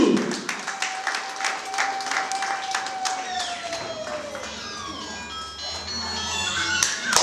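A church congregation keeps applauding with steady massed clapping, while a sustained tone and some singing or voices drift over the hands throughout.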